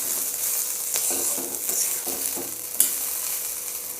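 Grated coconut sautéed and stirred in a pan for chutney, a steady sizzle with a few scraping turns of a spatula and a sharp clack near the end, no talk.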